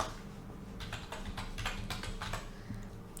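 A title being typed on a computer keyboard in PowerPoint, a quick run of close, crisp key clicks in an uneven rhythm, no talk.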